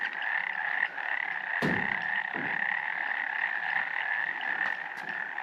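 Frogs croak near Baker's Falls at Horton Plains, Nuwara Eliya, in a dense, continuous chorus that holds steady throughout, broken by a couple of brief nearby thumps.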